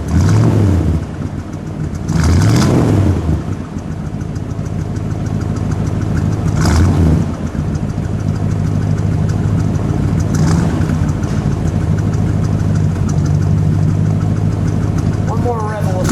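A 1966 Dodge Monaco 500 hardtop's 383 V8 rumbles loudly at close range with a steady idle, its exhaust surging through a couple of sharp revs early on, with voices heard briefly between them.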